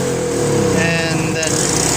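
A snowblower engine just started after summer storage runs loud and close, a steady buzzing drone held throughout the brief moment.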